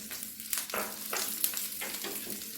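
Okra and roasted peanuts fry quietly in a pan, a soft continuous sizzle broken by several scraping stirs at a fairly even pace.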